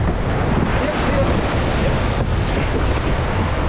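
Big ocean waves break and surge continuously on a fishing trip at sea, a dense roaring wash mixed with strong wind buffeting the microphone.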